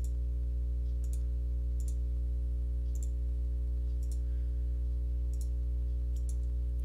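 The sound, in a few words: mouse clicks while working in CAD software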